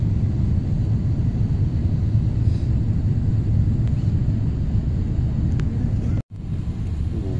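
Steady, loud low rumble inside an airplane cabin as the plane circles before landing in Sydney, continuous and broadband, with a brief sharp dropout near the end.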